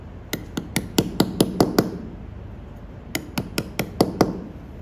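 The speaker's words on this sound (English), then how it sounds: "You hold your chisel and you go at a 45 degree angle" A hammer drives a chisel to cut letters in stone, giving sharp, evenly spaced ringing taps in two runs of about seven strikes each, close and clear, with a short pause between them.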